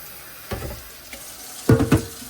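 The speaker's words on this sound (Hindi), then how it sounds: "और ये देखें जी, पानी डाल रहे हैं अब हम इसमें।" Water poured into a container of chickpeas set to soak, heard as a soft splash followed by a louder gush and spatter near the end, close up, with no speech.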